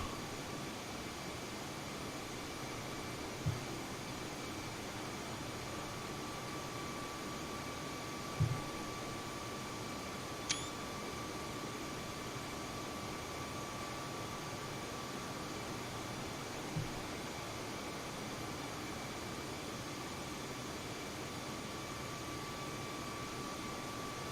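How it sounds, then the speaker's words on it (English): An Airbus A320neo's engines in Microsoft Flight Simulator give a steady, faint jet hum with a constant tonal whine, broken by a few soft clicks, and no one speaks. "if the airplane noises are too loud, do let me know"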